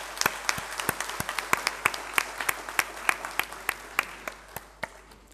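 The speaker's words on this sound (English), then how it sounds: "I would like to request you all to welcome him with a huge round of applause." Scattered, distinct handclaps from an audience welcoming a dignitary at a valedictory ceremony for ISDS officers at an administrative training institute, moderately quiet with individual claps clearly separated.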